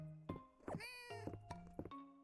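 A cat in the farming video game Fields of Mistria gives several short, soft meows, interleaved with bright chiming game sound effects, heard close and quiet with no talking.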